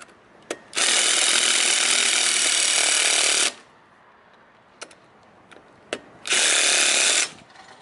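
A power drill bores a hole for mounting a security light in two loud, sustained bursts, each lasting a few seconds, separated by quiet gaps with small knocks and clicks.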